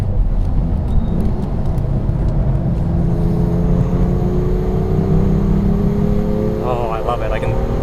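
A 2016 BMW M2 engine pulls hard out of a corner with the throttle floored, a loud steady drone rising in pitch, heard from inside the car with someone talking over it.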